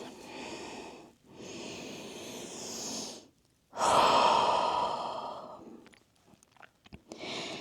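Slow, deep breaths are drawn in and let out during a child's pose stretch in a Pilates back and glutes session: two long inhales or exhales, then a louder, breathy sigh, close to the microphone.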